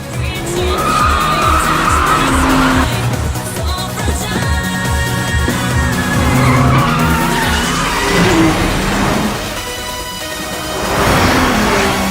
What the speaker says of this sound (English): At the end of the corner, open up the throttle and book it.